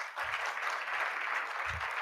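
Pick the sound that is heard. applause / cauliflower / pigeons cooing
applause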